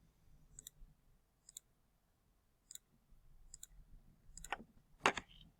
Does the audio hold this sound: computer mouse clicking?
yes